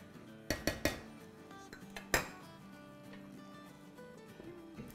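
Metal lid clanks onto a pot of green chicken karahi, a few sharp clinks in quick succession followed by one louder clatter, then a quiet simmering kitchen background.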